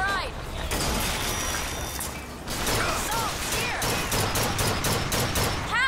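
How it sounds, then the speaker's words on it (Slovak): Rapid gunfire and impacts crackle through a BioShock Infinite battle, a dense, loud barrage of shots with metallic clatter, interrupted briefly before resuming. "Ostreľovací puška."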